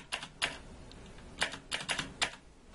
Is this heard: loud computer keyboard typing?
yes